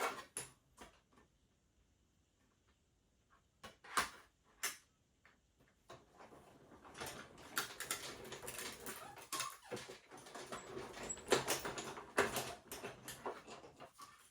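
A die cutting machine cuts a foam sheet with a Noel die. Sharp clicks and taps come at first, followed by a steady grinding, crunching rumble with repeated clacks as the layers roll through.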